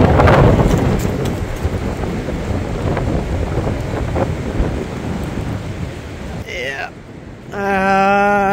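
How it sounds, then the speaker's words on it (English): Roaring high winds from a winter storm tear through trees at a forest campsite, a loud continuous rush with gusts, briefly dropping before surging again near the end. "Crazy wind"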